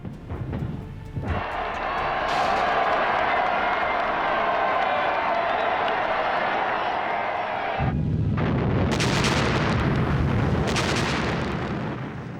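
Celebratory 124-gun artillery salvos and a fireworks barrage over Moscow's Red Square in 1943 make a loud, sustained rumbling roar. Sharper bursts break through with a crowd-like wash behind, heard from a distance on an old archival recording.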